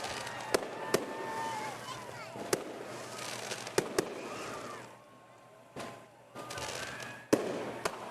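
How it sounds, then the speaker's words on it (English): Fireworks bursting over a community Christmas parade in Chandler, with sharp booms and pops at irregular intervals, some loud and close, over crowd murmur and whistling trails. "There are the fireworks."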